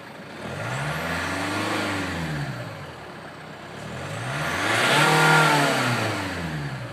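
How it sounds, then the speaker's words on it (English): The engine of a Hyundai Santa Fe that smokes after starting revs twice, rising and falling in pitch with each blip, steady and close with no talk. "I'm trying to rev the engine now."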